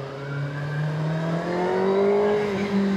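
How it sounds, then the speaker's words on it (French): Kawasaki Ninja ZX-6R 2025 sport motorcycle on its stock exhaust, a steady high-pitched inline-four engine note that holds and slowly rises in pitch as it revs, loud and close, with no talk. "Mais cet échappement, qu'est-ce que c'est que cet échappement d'origine?"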